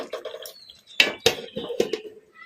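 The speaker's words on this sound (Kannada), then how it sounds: "ಈಗ ತಟ್ಟೆ ತೆಗೆದು ನೋಡೋಣ" A plate used as a lid is lifted off a pan of chicken fry on a low flame, giving a few close metallic clinks and clatters in quick succession over a soft background hiss.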